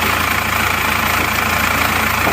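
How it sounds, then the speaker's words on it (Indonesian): An Isuzu Panther diesel engine, freshly overhauled, idles steadily up close with a rough, even rhythmic chug and no voices. "Coba dulu ya Panther yang dari Wonogiri, baru saja turun mesin kemarin."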